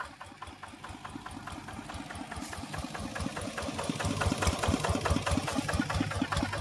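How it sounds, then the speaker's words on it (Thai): A Ford farm tractor engine idles close by with a steady, rapid knocking putter that grows gradually louder over the few seconds, with no talking. "จะขับรถไถนะครับฟอร์ดนี่ที่ผมเคยนำเสนอไปนะครับ"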